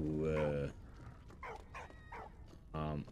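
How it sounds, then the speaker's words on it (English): A dog barks a few times in Valiant Hearts, short bright yelps in the middle of the clip, with a person talking before and after them. "I hear the barks"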